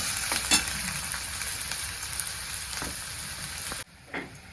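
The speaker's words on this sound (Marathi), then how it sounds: "आपल्याला कांदा छान असा लाल गोष्ट भाजून घ्यायचा तेलात तळून घ्यायचं" Chopped onion frying in oil gives a close, constant hiss and sizzle, broken by a few scraping stirs of the spoon, with no speech, and the sound drops suddenly near the end.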